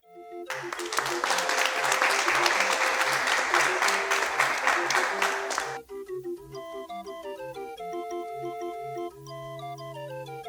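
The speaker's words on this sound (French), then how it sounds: "on l'applaudit très fort" An audience at a summer evening show in the Alpes-Maritimes claps loudly for about six seconds over soft organ-like music, then the applause stops abruptly and only the melody carries on.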